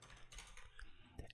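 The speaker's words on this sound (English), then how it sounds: "And we'll type in the duration" Soft, quick keystrokes tap on a computer keyboard in a short burst, close and quiet, with no talk.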